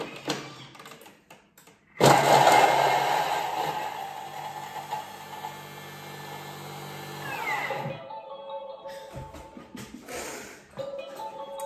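Food processor chopping zucchini on speed 8 for grain-free herb bread: a loud motor whir starts abruptly, runs steadily for about six seconds with a rising pitch, then cuts off, followed by quieter clattering and handling noises.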